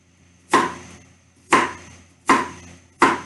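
A knife cuts vegetables for a beef stew on a cutting board, four crisp, evenly spaced chops that ring out close and clear against a quiet background.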